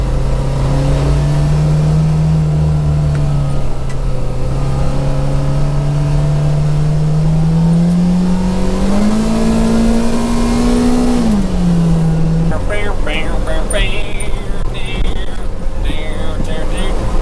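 Steady engine drone from a heated side-by-side UTV driven in slow circles around a cold farm field, heard close from inside the cab. The pitch holds steady, rises a little, then drops, and it runs continuously throughout.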